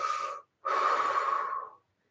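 Deep breathing during a yoga exercise, heard up close: a brief airy breath, a short pause, then a long, loud, steady inhalation that fades out, with no talking.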